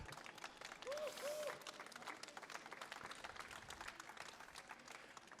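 Audience applause fills a hall at a conference event, a dense steady patter of many hands clapping throughout, with a brief whistle-like tone near the start.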